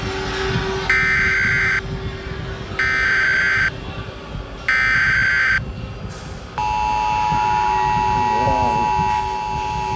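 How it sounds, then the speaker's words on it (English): An emergency broadcast alarm tone blares in three loud, even buzzing bursts with short gaps, then gives way to a long steady tone over background noise. "there's an entire, doomsday alarm!"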